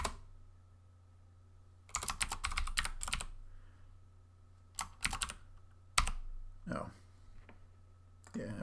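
Rapid typing on a computer keyboard comes in several short, loud bursts of clattering keys, separated by quiet pauses, close to the microphone.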